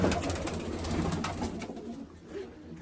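Soft, low cooing of pigeons over a rustling background, fairly close, fading slightly toward the end.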